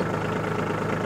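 A Kubota B2601 compact tractor's diesel engine idles steadily with a low, even chugging rhythm, close and constant.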